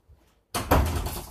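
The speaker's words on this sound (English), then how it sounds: "I'm going to close the door." An indoor door closes with a loud, abrupt thud after a short quiet moment, followed by a dull rumbling settle.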